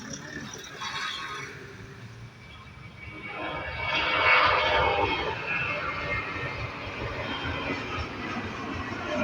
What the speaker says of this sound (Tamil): ஃப்ளைட்டு டேக் ஆஃப் ஆகிற வீடியோ பார்க்கலாம்.